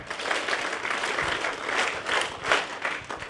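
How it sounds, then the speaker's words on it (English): Audience at a campus event clapping together in sustained applause, a dense crowd of hands going for several seconds without a break. "One SRM clap."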